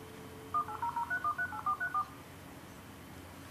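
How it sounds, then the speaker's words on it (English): A dial-up internet dialer punches out a telephone number as a quick run of about ten short touch-tone beeps, clear and evenly spaced over a quiet line hiss. "It's dialing up all on its own."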